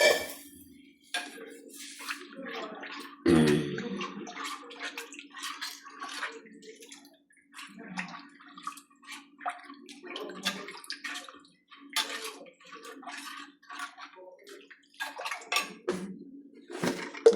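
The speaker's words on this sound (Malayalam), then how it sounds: "പുളി വെള്ളത്തിൽ ഇട്ടേക്കുന്ന വെള്ളവും പുളിയും കൂടെ" Tamarind water poured into a pan of spiced fish curry base, a short splashing pour followed by quiet clinks of a utensil against the pan and soft intermittent scraping and dripping.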